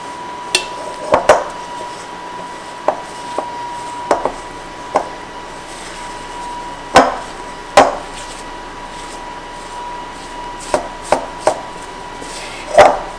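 Soft butter being broken up and combined with sourdough cracker ingredients in a bowl: sparse, irregular sharp knocks and clatters of a utensil against the bowl over a quiet background.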